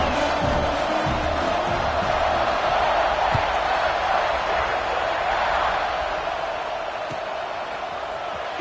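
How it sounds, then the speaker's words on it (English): A Gators football stadium crowd roars in a dense, sustained buzz after a touchdown, loud and wide, slowly easing toward the end while a commentator talks over it. "this crowd is buzzing after that last score"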